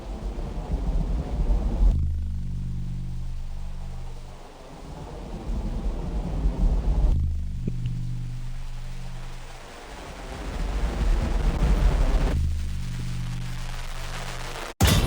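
Explosions in the video game Atomic Heart during its finale, heard as three deep, rumbling low booms that swell and fade in turn, loud and close, with no talk over them.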